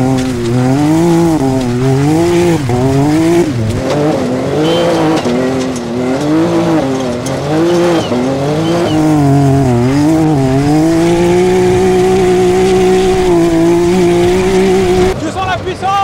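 A Can-Am turbo side-by-side brakes hard, its tires squealing and skidding in long wavering tones over a loud, continuous engine drone, close and sustained throughout.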